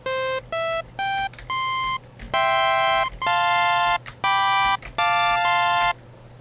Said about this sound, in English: which is the saw shape, which sounds like this.